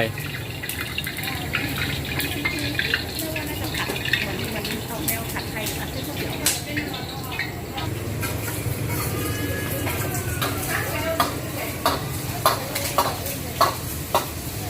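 A Chinese chef stir-fries vegetables and egg in an iron wok, a steady loud sizzle with repeated clanks and scraping of the utensil, while a crowd looks on and voices talk in the background.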